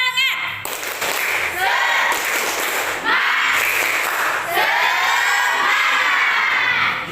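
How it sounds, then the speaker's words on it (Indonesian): Schoolchildren in an Indonesian classroom perform tepuk semangat, a spirit clap chant, with rhythmic group clapping and loud shouted chanting voices continuing steadily for several seconds. "Coba tepuk semangat."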